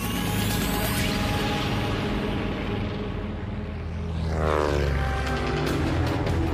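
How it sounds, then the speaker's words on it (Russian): A heavy four-engine B-17 bomber's propeller engines drone loudly and steadily at takeoff, a dense continuous roar that swells slightly near the end. "все 4 двигателя подняли тяжелый бомбардировщик в воздух"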